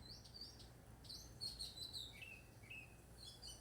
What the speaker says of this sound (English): Might be a mockingbird because it's making so many different sounds.